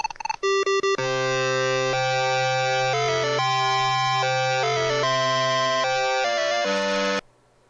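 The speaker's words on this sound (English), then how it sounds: "the cart version steals its end-of-stage music from Star Wars" TI-99/4A video game end-of-stage music borrowed from Star Wars: a loud, bright electronic fanfare of steady sustained square-wave notes stepping through a melody for about seven seconds, then cutting off abruptly.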